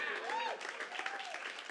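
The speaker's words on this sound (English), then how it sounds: "And just clap it up for yourselves for being here." An audience applauds at a comedy contest, a broad wash of clapping heard under a speaker's voice addressing the room.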